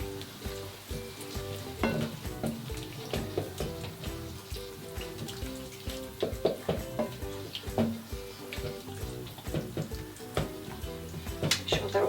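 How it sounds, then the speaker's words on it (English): Turkey meatballs in tomato sauce with onion and celery are broken apart and pushed around a pan with a spoon. Close, frequent spoon clacks and scrapes sound over a soft, continuous simmering sizzle. "Give those a chop up with a spoon. Push them round."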